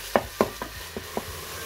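Meat with onion and garlic powder sautés inside a cooking machine, giving a handful of sharp clacks and scrapes in a loose rhythm that fade over a faint frying hiss.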